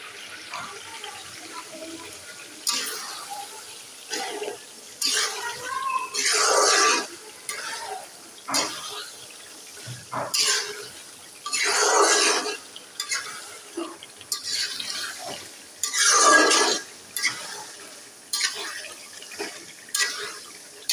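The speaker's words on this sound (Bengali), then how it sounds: "তো ভুড়িটা আমি সুন্দর করে কষিয়ে নিচ্ছি এখানে আর এতে কিছু আস্ত রসুনের কুয়া আমি এই যে কষানোর সময় দিয়ে দিচ্ছি" Beef tripe being sautéed with whole garlic cloves in a pan, heard as repeated bursts of scraping, stirring and sizzling in rhythmic strokes separated by brief quiet gaps.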